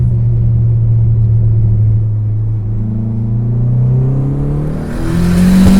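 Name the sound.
turbocharged Dodge SRT-4 accelerating in second gear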